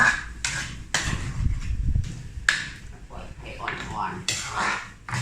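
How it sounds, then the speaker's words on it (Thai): Peanuts being dry-roasted and stirred in a pan over low heat for a Thai chili paste, with scraping and rattling of a utensil against the pan in uneven strokes, close, under someone talking. "อันนี้คือ ถั่วลิสง ถั่วลิสง คั่วให้เข้ากันเข้ากัน"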